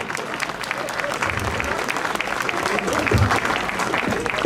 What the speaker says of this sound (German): Leon, Applaus.